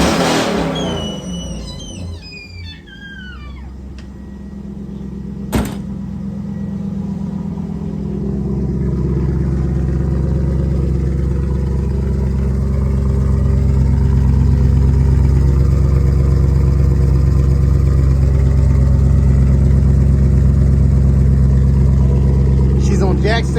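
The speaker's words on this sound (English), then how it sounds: "this is simply a muffler delete, and this is what she'll sound like" A Chevrolet Camaro with a muffler-delete exhaust, raised on jack stands, rumbles up from a quieter start into a loud, deep, sustained drone. A voice speaks briefly at the beginning.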